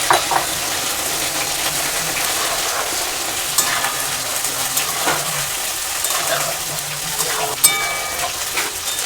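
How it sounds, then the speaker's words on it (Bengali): Ground spice paste going into a Bengali Rui fish curry with mango and potatoes, a continuous moderate sizzle and bubbling hiss with light stirring scrapes throughout. "এবার দিয়ে দেব আমি সেই বেটে রাখা মশলা।"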